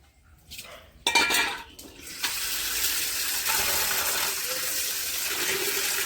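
Tap water gushes into a kitchen sink while raw chicken meat is rinsed, with dishes and metal utensils clattering before a steady, close stream of running water takes over.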